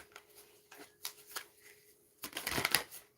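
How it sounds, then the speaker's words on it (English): A small inexpensive tarot deck being shuffled by hand, a few soft scattered riffles and taps, then a denser burst of card flutter near the end, close and fairly quiet. "one more shuffle"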